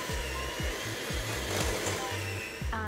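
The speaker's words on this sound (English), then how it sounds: "with even a handheld mixer like this one, mix until the mixture is fully combined and light and pale and creamy" A handheld electric mixer creams butter and castor sugar for a clementine and raspberry cake, giving a steady close whirring drone with a low rhythmic knocking as the beaters turn through the bowl.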